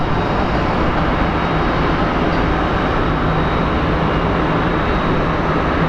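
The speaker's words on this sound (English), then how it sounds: "looks like we actually may be getting a takeoff from this runway" An airliner takes off from a runway at Phoenix Sky Harbor International Airport, a loud, steady, broadband engine roar holding constant for several seconds without speech.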